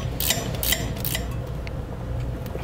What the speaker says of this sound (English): We'll use our 7/32 Allen key again in order to snug this down